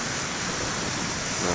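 Ocean surf at the main lighthouse beach at BTL rushes in a continuous broadband wash, loud and close, swelling slightly at the end as a wave breaks.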